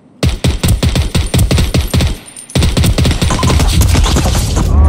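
Automatic weapon fire in a video game, two rapid bursts of close, loud gunshots separated by a brief pause, the second burst denser and running to the end.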